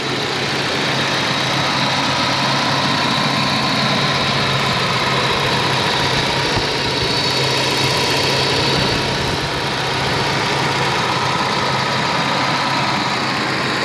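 A 1987 Volvo 740 Turbo idles steadily with a new Bosch air flow meter fitted, a constant low engine hum with a faint whine running evenly throughout, close by and with no talking.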